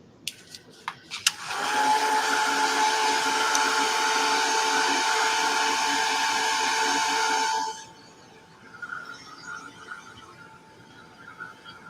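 A dryer blasts a steady, loud whirring hiss over gesso on art journal pages, starting after a few faint clicks and running for about six seconds before cutting off, followed by quiet rustling.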